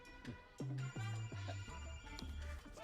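An incoming call sets a phone ringing in a repeating electronic ringtone pattern, heard as several distinct chiming pulses in a row, fairly quiet and with no one speaking over it.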